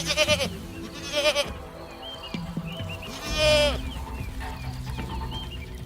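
Goats and sheep bleat in a Maasai herding village on the savannah, several wavering cries overlapping near and far over a busy bed of livestock noise and distant animal calls.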